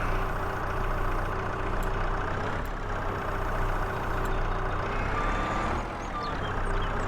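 The skid steer in Farming Simulator 22 runs with a steady diesel rumble and hum, close and continuous, with a few faint clicks and tonal whines over it.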